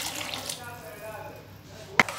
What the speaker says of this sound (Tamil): திருப்பி இந்த பாத்திரத்தில் இருக்கிறது எல்லாத்தையும் அலசி தண்ணி விட்டுக்கலாம்.